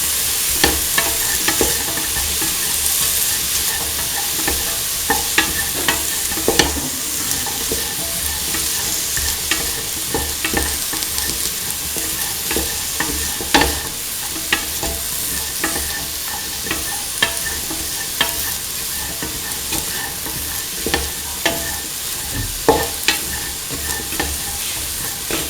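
Ivy gourd pieces being stirred into a mung bean and coconut milk stew, a constant sizzling bubble under repeated sharp utensil scrapes and taps on the pot throughout, no voices.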